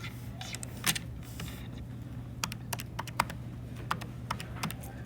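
Numbers are tapped out on a calculator keypad in a steady series of short, sharp key presses, some in quick pairs, over a constant low electrical hum.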